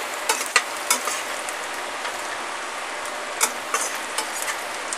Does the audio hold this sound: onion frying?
yes